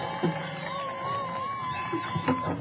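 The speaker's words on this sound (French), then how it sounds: "Les cris de joie pour Jésus." Crowd at an evangelical crusade cheering and shouting for joy, a loud sustained mass of voices with whoops and a high sustained cry riding over the roar.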